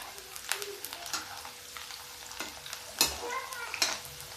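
Corn fries in a pan for a homemade chaat, a quiet sizzle under intermittent sharp stirring scrapes and pops, close and fairly soft, with no voices.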